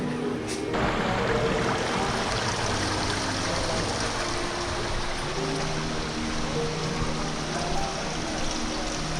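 Steady rushing water from a river in Bern city, Switzerland, a continuous broad wash heard close and fairly loud, with a brief clunk near the start and faint low hum underneath.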